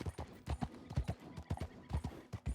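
Horse hooves in Red Dead Redemption II clip-clop in a steady, close walking rhythm, clear distinct hoof strikes repeating for a couple of seconds with no speech over them.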